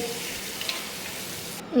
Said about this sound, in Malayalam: എല്ലാം ഒന്ന് വഴറ്റി